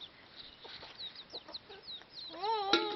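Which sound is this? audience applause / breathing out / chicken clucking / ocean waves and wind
chicken clucking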